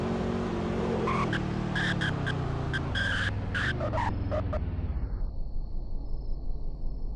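A pickup truck in the Roblox game Greenville brakes hard from speed. Loud engine noise is broken by several sharp, squealing tire skids over a few seconds, then cuts off abruptly to near silence.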